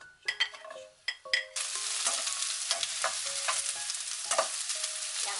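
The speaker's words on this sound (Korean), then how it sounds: "기름 두르고 여기에 양파를 먼저 볶을 건데요" Onions hit hot oil in a large pan, opening with a few stirring clacks before a loud, continuous frying sizzle takes over, close and steady with occasional scraping and no voices.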